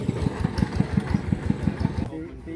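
A farm tractor engine chugs close by in a fast, even beat of low thumping pulses, then drops away abruptly in the last half second.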